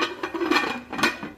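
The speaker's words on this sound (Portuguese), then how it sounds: "Agora eu vou tampar aqui a panela." A metal lid set onto a cooking pot in a home kitchen while lunch is prepared, giving a few close, soft clinks and a brief rattle as it settles, with no talk.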